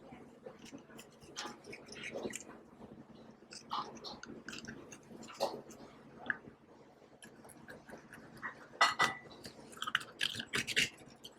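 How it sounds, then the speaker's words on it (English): A knife or oyster opener scrapes and clicks against the shell of a raw abalone as it is pried loose, a close, quiet run of irregular ticks and wet crunches that grows busier and louder toward the end. "we try to take the abalone out of the shell. Use the knife or the oyster opener."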